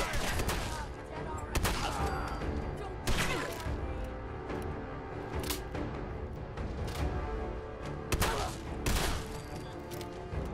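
Gunfire in Fallout 4 erupts in repeated loud bursts and sharp shots across the whole stretch, a sustained firefight with heavy thumps and crashes mixed in.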